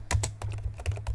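Quick burst of typing on a computer keyboard, several crisp close key clicks in about a second, with no talking.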